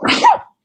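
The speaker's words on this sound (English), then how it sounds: "I'm going to sneeze." A single loud, close human sneeze, one short burst that cuts off into silence.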